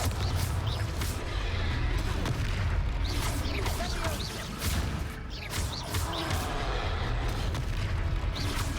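A Confringo fire spell explodes in the Hogwarts Legacy game during a fight with a troll, booming blasts and crashes within dense, continuous combat noise, with a voice calling out.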